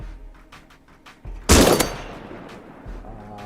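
A single loud gunshot rings out at a shooting range in the survival game Rust, one sharp crack with a lingering tail, set between quieter ambient game sounds.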